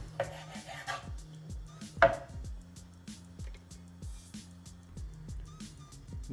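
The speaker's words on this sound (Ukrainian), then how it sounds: "продовжую нарізати м'ясо" A knife chops meat on a board for solyanka in a quick, regular rhythm of close, crisp thuds, with a louder knock at about two seconds and the pace holding steady throughout, with no talking.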